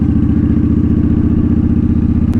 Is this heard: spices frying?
no